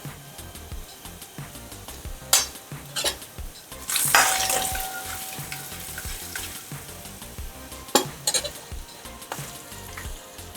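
Curry leaves crackle and sizzle in hot oil for a tomato saar tempering, with a sharp burst as they hit the pan and utensil clinks and stirring throughout.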